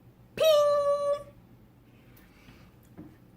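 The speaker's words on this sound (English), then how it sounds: "is the sound of a knife vibrating off the crust of our bread" A knife blade vibrating off the hard, rind-like crust of a freshly baked loaf gives one clear metallic ping that rings for about a second, then fades, followed by quiet room noise and a faint tap.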